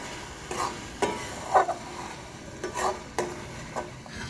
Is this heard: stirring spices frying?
yes